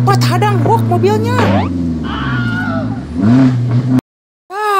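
A car engine revs loudly and close as it drives past, its pitch sliding and wavering, then cuts to a brief silence before the revving resumes.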